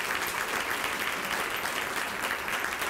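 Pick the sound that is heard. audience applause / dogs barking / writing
audience applause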